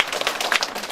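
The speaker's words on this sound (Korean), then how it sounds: "큰 박수" Audience applause fills a local lawmaker's legislative report meeting in Geumam 2-dong, Jeonju, a dense, steady burst of many hands clapping close by throughout.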